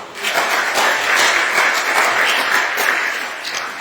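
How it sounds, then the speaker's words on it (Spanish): A church congregation claps together in a sustained burst of applause that builds quickly, holds steady and fades slightly at the end, filling the room with no clear speech over it. "Dele palmas a Cristo Jesús."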